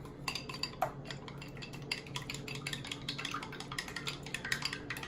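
Shrimp and beaten egg mixed in a bowl, with a steady run of light clinks and scrapes of utensil against the bowl, close and continuous, no voices.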